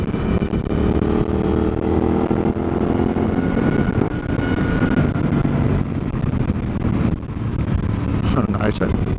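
A Suzuki DL-800 V-Strom motorcycle engine drones steadily while riding, a continuous low rumble with wind noise, and someone talks over it throughout.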